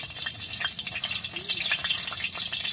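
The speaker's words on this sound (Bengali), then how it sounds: "তেল গরম হয়ে গেছে, তেলের মধ্যে দিয়ে দিলাম শুকনো লঙ্কা গোটা।" Whole dried red chillies frying in hot oil for a village-style potato curry, giving a steady, close crackling sizzle throughout, with faint voice-like sounds in the background.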